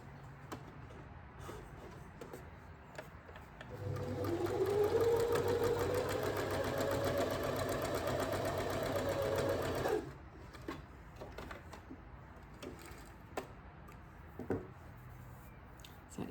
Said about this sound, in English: I'm going to just do a little row of sewing